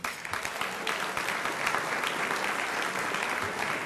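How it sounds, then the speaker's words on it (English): Sustained audience applause for an executive director at a business excellence awards event, a steady dense wash of clapping from a sizeable crowd throughout, without speech. "A huge round of applause, please, for our Executive Director, the amazing and the one and only Kathy McKay."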